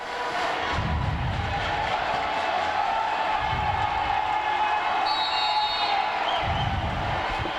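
A loud, continuous crowd roar fills a high school gym at a boys' basketball game between U.T.H.S. of East Moline and Moline, a dense wash of voices held steady throughout.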